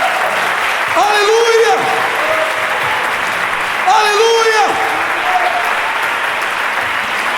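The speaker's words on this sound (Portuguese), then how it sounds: "Dê um aplauso bem forte ao Senhor." Church congregation applauding loudly and steadily throughout, with voices shouting praise over the clapping in two bursts.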